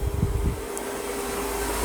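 A Roborock Saros 20 robot vacuum running as it vacuums and mops a room, giving a steady close whir with a constant tonal hum and a few low bumps at the start, no talking.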